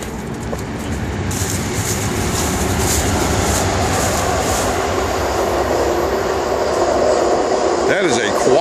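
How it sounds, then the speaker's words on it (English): An Amtrak passenger train, one of the newer models, passes close by as a steady, loud rumble of rail noise that holds through the whole stretch, with a voice talking briefly over it. "oh, here comes the train."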